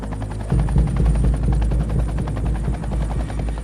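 Helicopter hovering over a ravine during a mountain rescue, a loud continuous rotor thump with rapid rhythmic chopping that grows heavier after the first half second and holds steady, close and alone.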